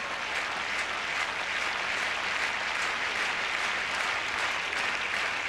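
A tennis crowd at the 2002 French Open at Roland Garros applauds the defending champion, a steady, dense wash of clapping that holds evenly throughout without pauses.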